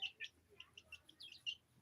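Small birds chirp outdoors on a farm where crops are grown and animals reared, with short, faint, high tweets scattered through the stretch and a light background murmur.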